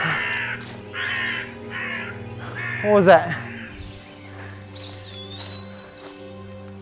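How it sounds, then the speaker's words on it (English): Crow cawing in a forest of ferns and trees, loud and close in a short burst, with other birds calling around it and a whistle-like call later, under a man's speech. "Birds."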